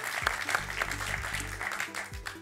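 A TV quiz show studio audience applauds a departing contestant after his two wins; a steady patter of clapping runs throughout, mixed with low tonal studio sound.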